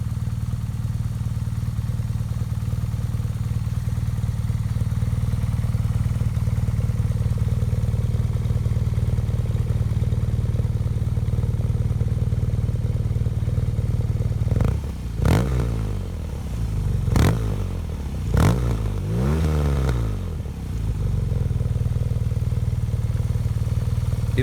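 Steady exhaust note of a BMW R nineT Urban GS motorcycle running close by, holding an even drone for most of the stretch, then several sharp throttle blips rising and falling in quick succession before settling back to a steady hum.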